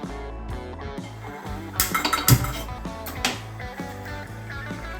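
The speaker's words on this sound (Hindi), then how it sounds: "अब हम दूध को उबलने के लिए गैस पर रखेंगे।" A pot of milk is set down on a gas stove in a home kitchen, giving a sharp metallic clank amid ongoing clinks and rattles of utensils and cookware.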